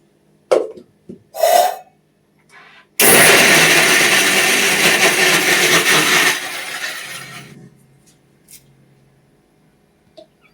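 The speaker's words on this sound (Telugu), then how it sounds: "మిక్సీ పట్టేసుకుందాం ఒకసారి." After a few brief noises, a mixer grinder whirs loudly for about three seconds grinding tomatoes and onions, then winds down into a fading rumble and quiet clicks.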